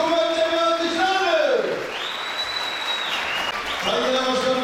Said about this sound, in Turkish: Kuvvetli bir alkışlarım ben Genel Başkanımıza.